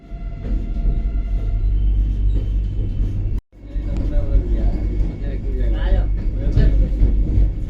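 A Vande Bharat Express train rolls into Hubli station with a deep, steady rumble under continuous talking, briefly cutting out for a moment before the low drone resumes.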